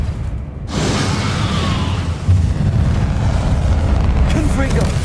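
Convulso spell blast in the video game Hogwarts Legacy: a loud, deep boom with a rushing swell that holds steady over continuous rumbling game noise, plus a second thud partway through.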